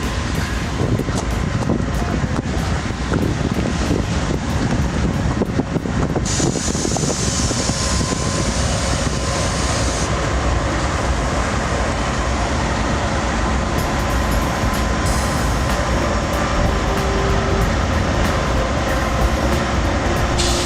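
A steady, loud rumble of a locomotive rolling along the tracks on the Western Maryland Scenic Railroad, with a continuous metallic hiss and clatter, close by throughout.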